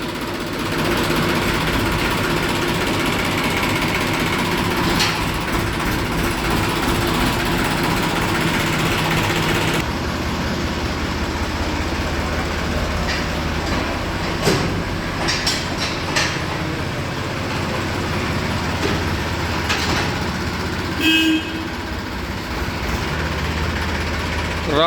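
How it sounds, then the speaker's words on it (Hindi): A Massey Ferguson 245 tractor engine runs steadily with a continuous low rumble throughout, loud and close, with a few brief clanks and knocks on top around the midpoint and near the end. "वाह क्या शानदार आवाज़ है मेसी 245 की"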